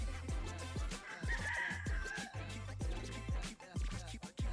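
Fighting roosters and hens on a farm clucking and crowing close by in a busy flock, short repeated calls overlapping with a longer drawn-out crow.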